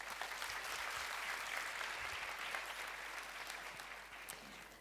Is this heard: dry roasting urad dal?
no